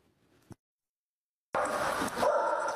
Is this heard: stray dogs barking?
yes